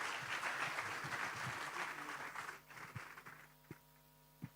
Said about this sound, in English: Again, a loud applause to all of them.